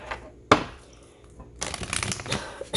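Tarot cards are shuffled up close: one sharp riffle, a pause, then a longer flurry of papery card shuffling.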